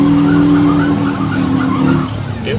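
Semi truck at a drag race spins its tires to heat them, a loud, steady engine roar with tire squeal held close and continuous for the whole stretch.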